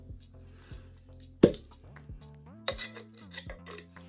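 Cocktail shaker from a speakeasy drinks box being handled: light metallic clinks and taps, a couple of sharper knocks among softer ringing touches, close and fairly quiet, no talk.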